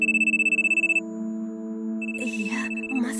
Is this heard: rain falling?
no